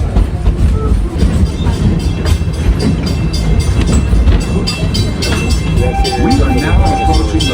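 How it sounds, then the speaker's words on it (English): A train rumbles into the Harambe station at Disney's Animal Kingdom with steady mechanical clatter and a low roar, loud and close, with faint voices mixed underneath. "Took about almost 20 minutes and our train has arrived."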